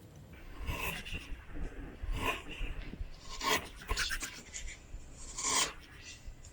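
A freshly sharpened hand tool test-cuts wood in about five short, quiet shaving strokes at an uneven rhythm, close by and heard alone.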